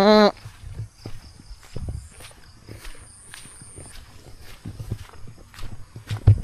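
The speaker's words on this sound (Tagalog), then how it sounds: "Cute ng maliit na kalabaw." A small water buffalo calf walks on a farm, its soft, uneven hoof steps close by and fairly faint, with scattered animal and background sounds around them.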